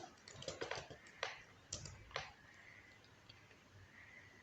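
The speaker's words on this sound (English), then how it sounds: "So when I type Steven, then I'm going to see this Steven is of type string" Typing on a computer keyboard during Flutter app coding, a quiet close run of quick key clicks in short bursts, then a few isolated taps and near silence.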